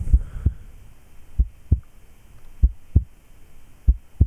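Heartbeat sound effect in a horror video game: paired low thumps repeating about once per second, near and alone with a faint hum beneath.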